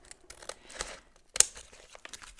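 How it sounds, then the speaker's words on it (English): Scissors snip through a small piece of paper while trimming a collage at the crease, a few soft crinkly cuts with one sharper snip in the middle, close and quiet, no talking. "I have to cut a little bit off here"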